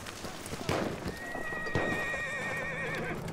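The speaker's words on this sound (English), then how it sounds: "Horse!" A horse in the video game Battlefield 1 gives a loud, wavering neigh over clip-clopping hooves, close and prominent.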